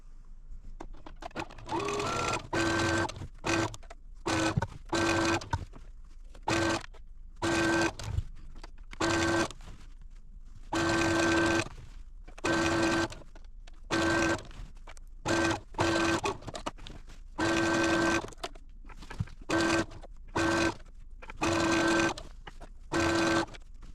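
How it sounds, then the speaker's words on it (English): A sewing machine stitches a border seam on a beginner sampler quilt, running close by in repeated bursts of fast whirring with short pauses between them. "I'm going to take it over to the machine and sew it on"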